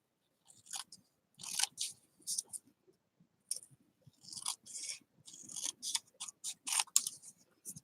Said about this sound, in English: These are my favorite scissors.